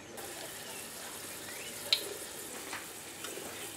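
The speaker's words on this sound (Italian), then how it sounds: "Verso in padella un paio di cucchiai d'olio. Aggiungo uno spicchio d'aglio e lascio scaldare l'olio." A clove of garlic sizzling in a couple of spoonfuls of hot olive oil in a pan, a steady faint hiss with a single small pop, no voices.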